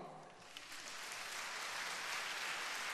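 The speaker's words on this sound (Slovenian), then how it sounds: "Zdaj pa se bomo skupaj naučili ploskati. Na moj znak." An audience at a sports awards ceremony in Mozirje claps together on the presenter's signal, a sustained, fairly loud burst of applause swelling and holding steady across the clip.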